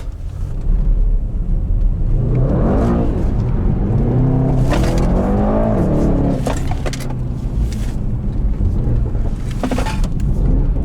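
A 612 HP Mercedes E63S 4-Matic Estate pulls away hard under launch control, its loud, steady engine roar rising in pitch through the run, heard close from inside the cabin.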